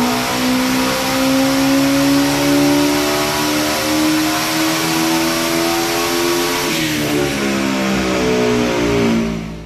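Close, loud de-stroked Subaru EJ engine with a Garrett GTW3884 turbo, screaming steadily past 10,000 RPM with a sustained high rising whine, a brief dip near the end, then climbing again, with no talk.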